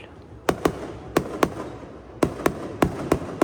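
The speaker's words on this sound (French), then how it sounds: "En France, les feux d'artifice deviennent populaires sous le règne de Louis XIV" Fireworks exploding in a rapid series of sharp bangs, roughly ten loud cracks in uneven pairs and clusters with brief decays between.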